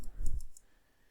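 A computer mouse clicks during 3D modeling work in Maya: a few quick, light clicks in close succession over a soft thump, then near silence.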